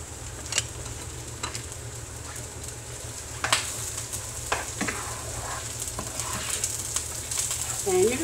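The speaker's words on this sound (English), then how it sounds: "you're just going to let these saute up" Diced onions sizzle softly and steadily in a pan for a cowboy casserole, with sparse clicks from a utensil and faint background sounds.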